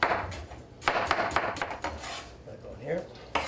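A knife slices through a cored vegetable on a cutting board, giving a series of sharp, close chopping knocks in an uneven rhythm with light kitchen clatter between them.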